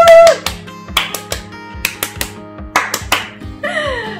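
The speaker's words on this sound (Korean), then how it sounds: "너무 기뻐서 혼자 자축에 박수 시간을 한번 가져봤고요" A single person claps alone in celebration, a string of sharp, close hand claps in loose, uneven bursts, with a brief electronic tone at the start and a chime-like flourish at the end.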